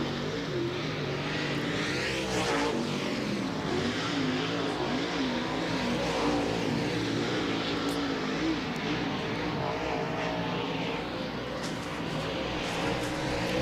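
A World of Outlaws race car accelerates hard around the Atomic Speedway dirt oval, its engine note climbing in repeated loud revving sweeps that blend with other cars droning nearby throughout.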